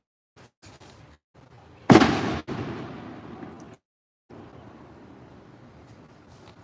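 A firework bursts nearby in a residential neighborhood, one loud sharp boom followed by a crackling, hissing tail that fades out, with quieter pops and outdoor ambience around it.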